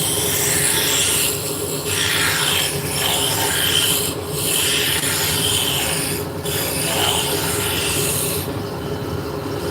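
A roughing gouge cuts a spinning wooden drop spindle on a lathe, producing a continuous close rasping, rubbing scrape over the motor's steady whir, with brief pauses between passes.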